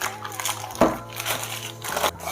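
Butter for puff pastry is peeled off baking parchment with a close crinkling, crackling rustle that peaks in two short bursts, and there is no speech.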